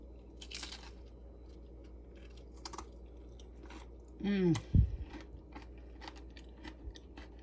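An air-fried tostada shell being bitten, a short crisp crunch and crackle in the middle of a quiet kitchen scene, with faint voice and handling sounds around it.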